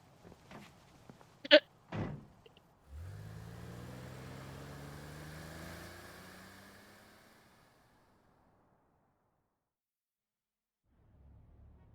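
Small car in the Persona 5 Royal video game: a few door thunks and a slam, then an engine hum that rises and fades away, leaving near silence.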